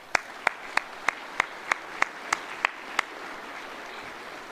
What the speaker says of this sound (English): I would like personally to give you a round of applause